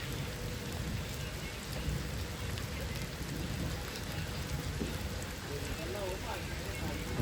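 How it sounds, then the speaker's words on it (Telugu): Heavy rain pours down outside a newly built meeting hall complex, a dense, continuous roar of drops hitting surfaces that stays even and loud from start to finish, with no voices over it. "ఫుల్ వర్షం అయితే పడుతుంది అన్నమాట."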